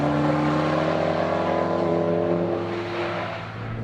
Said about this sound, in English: go drive it and hammer on it through little corners like this